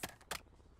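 Two quick mechanical clicks of a magazine being swapped on an MP 40 in Call of Duty Warzone, sharp and close, a short pause between them, then quiet.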